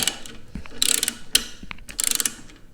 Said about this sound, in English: We'll be tightening it up reasonably tight as well.